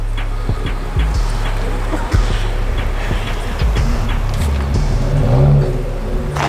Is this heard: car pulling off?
yes